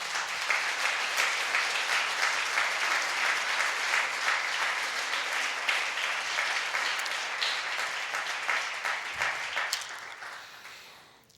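A church congregation breaks into sustained, dense applause that stays loud and steady for most of the stretch before fading away near the end.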